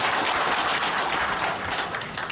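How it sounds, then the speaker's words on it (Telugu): A rally crowd breaks into loud, steady applause, a dense wash of many hands clapping close by with no break across the stretch and no voice rising above it. "వాళ్ళందరికీ ముందుగా గట్టిగా ఒకసారి చప్పట్లు కొడుతున్నారు."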